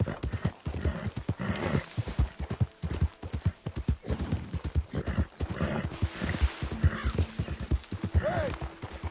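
Horse hooves trot in Red Dead Redemption 2, a brisk close clip-clop rhythm running throughout, with saddle creaks and faint ambient game sounds layered underneath.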